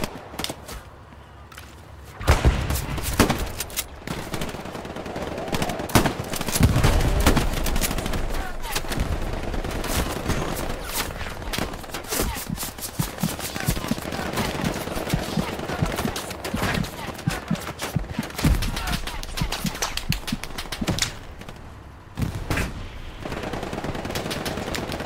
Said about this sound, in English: I can barely hear them over the gunfire